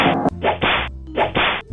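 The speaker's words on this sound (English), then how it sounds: "there's a whip crack sound effect like it's an episode of Johnny Test" Two sharp whip-crack effects from a movie, each a snapping whoosh ending in a crisp thwack, loud and close, spaced under a second apart with no talk over them.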